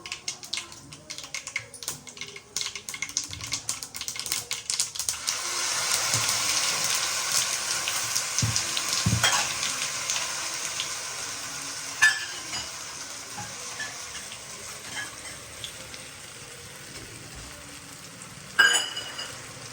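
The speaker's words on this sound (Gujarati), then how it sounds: "રાઈ તતળી ગઈ છે, નાખીશું લીમડો, જીરું, તલ," Mustard seeds, curry leaves, cumin and sesame seeds crackling in hot tempering oil, a dense spattering fizz at first that settles into a steady sizzle, with a couple of sharp clinks, no talking.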